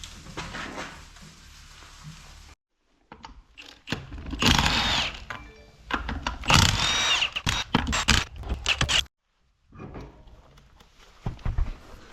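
A Milwaukee power tool gun fastens parts of a cheap suspension kit on an old rusty boat trailer, firing in several loud bursts of whirring and rattling impacts separated by brief pauses and quieter workshop handling noise.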